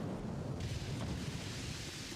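Naval gunfire in the Ultimate Admiral: Dreadnoughts battle game, heard as a dense, continuous low rumble of distant booms blending together at a steady loud level with no talk.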